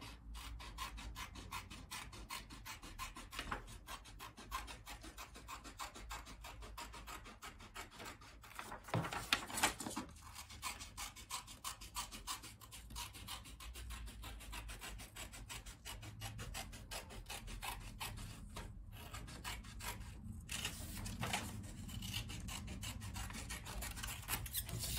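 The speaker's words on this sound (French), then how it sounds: "je vais déjà découper tous mes trucs, donc mon croissant de lune, pour m'en servir comme d'un patron en fait" Scissors cut a crescent moon pattern out of paper for a Christmas hanging decoration, making faint, close, continuous rasping and rubbing with small irregular snips and no talk.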